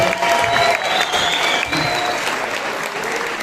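A crowd at the FICAM closing ceremony applauds in a dense, loud, continuous wash of clapping, with a few faint whistles or cheers riding on top.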